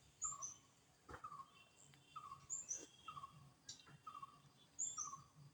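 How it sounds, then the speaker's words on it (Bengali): Birds call near a pond under a cloudy sky. Short chirping notes repeat about once a second, faint and somewhat distant over a quiet background. "পাখিরা ওই দিক থেকে ডাকছে, শোনা যাচ্ছে।"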